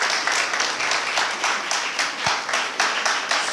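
Audience members at an infrastructure and ports conference clap in a steady rhythmic beat, sharp bursts roughly three per second, fairly close and loud.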